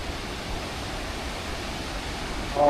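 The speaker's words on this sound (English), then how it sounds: "this is where the rapids begin" Rapids on the Wenatchee River in Washington State rush in a steady, full broadband roar of churning water, close and constant, swelling slightly louder at the very end.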